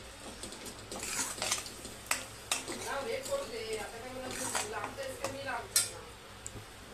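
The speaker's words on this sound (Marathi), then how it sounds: "आता हे मी परतून घेते, दुसरं अजून काहीही ॲड नाही केलेले." Red chili, ginger-garlic paste and masala paste sautéing in a pan, a spoon scraping and clinking against the metal in irregular strokes over a low sizzle, close and moderately quiet, with a voice talking at times.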